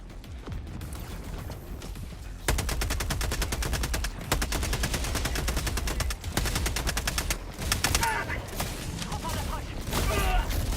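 Incendiary shotgun fire in the shooter Helldivers II: dense, rapid gunfire bursts with a loud, sustained clatter and booms, heard close and continuous under a busy game mix.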